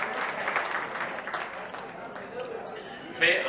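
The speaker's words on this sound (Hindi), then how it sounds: "तो इस डायनेमिक यंग कपल के लिए भी जोरदार तालियां बजाते हैं।" Crowd at a free charity camp in Mumbai for disabled people gives scattered, fairly faint applause, with background voices mixed in.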